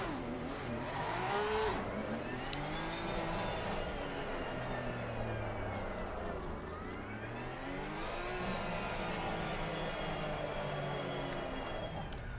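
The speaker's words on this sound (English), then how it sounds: "The Porsche is fun to drive" A Porsche race car engine howls steadily on the Spa circuit in a sim racing game, rising and falling through gears as it revs, continuous and fairly close with no gaps.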